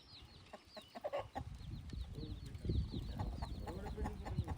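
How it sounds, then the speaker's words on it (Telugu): A rooster in a tribal forest village clucks softly amid ambient outdoor noise, with scattered short clucks and low rustling, fairly faint and close. "ఈ కోడిని అమ్మాలనుకో ఎంత అమ్ముతారు మీరు"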